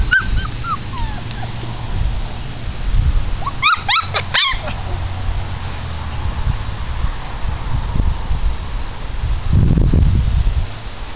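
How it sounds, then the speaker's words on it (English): Five-week-old F3 Goldendoodle puppies give a quick cluster of high yips and whimpers near the middle, over a steady background hiss and some low rustling. "they are a bunch of very active, healthy, 5-week-old puppies."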